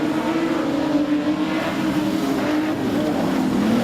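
Production sedans race around a speedway oval in a national title heat, their engines producing a loud, continuous droning roar that holds steady throughout as the field runs down the back straight.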